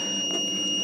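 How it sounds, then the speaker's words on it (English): A steady high electronic tone from an audio cable sweep tester, holding continuously and fairly loud over a faint background hum. "I'll stop the beeping for now."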